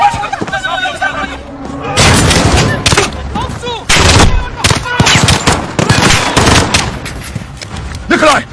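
Rapid bursts of automatic gunfire and loud single shots fill a Call of Duty Modern Warfare firefight, loud and close, with shouted voices in between.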